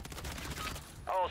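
Video game gunfire from a shooter such as PUBG, Escape From Tarkov or Warzone 2: a rapid volley of shots rattles in quick succession, followed by a short voice at the end.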